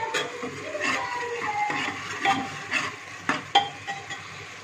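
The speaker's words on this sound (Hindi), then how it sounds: "अब इसे हम अच्छी तरीके से भूनेंगे" Onion and masala frying in a pan for a bottle gourd and chana dal dish, steady sizzling under irregular ladle scrapes and knocks that grow sharper toward the end, close up with no talking.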